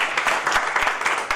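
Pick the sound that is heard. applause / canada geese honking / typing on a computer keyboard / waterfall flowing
applause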